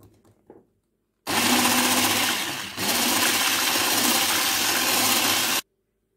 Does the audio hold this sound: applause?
no